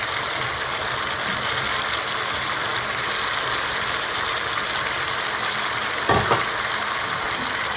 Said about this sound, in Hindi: अब कलेजी को टमाटर के साथ अच्छी तरह से भून लेंगे।